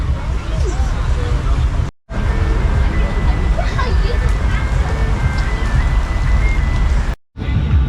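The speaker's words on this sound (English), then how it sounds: "This rain's horrendous." Heavy rain falling at an outdoor cheese festival in Caerphilly, a dense steady patter on surfaces with a murmur of people and passing traffic beneath, cut by two brief silences.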